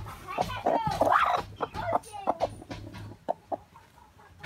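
A hen is placed on a sawdust-lined nest box and clucks close by in short, uneven bursts, with a person talking softly between the clucks.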